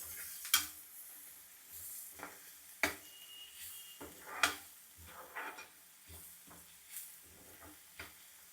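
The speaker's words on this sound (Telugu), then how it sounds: "ఉల్లిపాయలు దోరగా వేగిపోయినాయి అన్నమాట." Onions frying golden in oil with turmeric in a pan, a faint steady sizzle broken by sharp scraping strokes of a spatula at irregular intervals, close by, with no speech.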